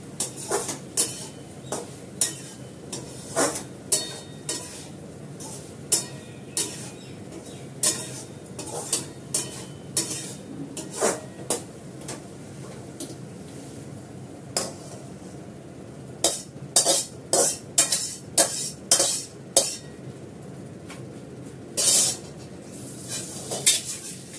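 A utensil stirs food in a metal cooking pan, sharp scraping clinks repeating irregularly every second or so over a faint background hiss, with a quick burst of rapid clatter near the end and no talking.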